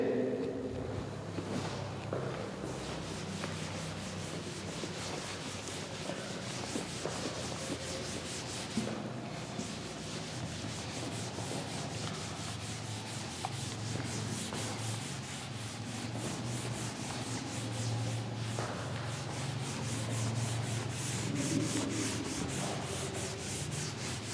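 Steady rubbing and scrubbing against a board goes on for a long stretch, a dry, rasping friction sound up close with brief pauses.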